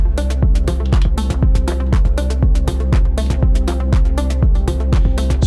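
A drum machine pattern plays alone and loud: a punchy kick with a softer ghost kick, booming sub bass under each hit, plus percussion and crisp ticking hi-hats in a steady, tight groove.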